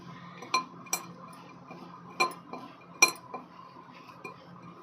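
Ground sugar mixed into panjiri ingredients for a Janmashtami prasad, with a spoon clinking sharply against a metal bowl at irregular intervals and soft stirring in between.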